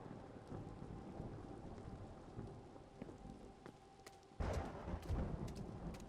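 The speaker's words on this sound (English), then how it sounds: "Storm stuff going on here." Video game thunderstorm with steady rain pattering on surfaces, low rumbling thunder rolling beneath and a sharper, louder crack of thunder near the end, no voices.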